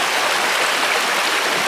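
A creek at Lake Padden flows past a mossy bank, a loud, steady broadband rush of running water with no pauses and no voices.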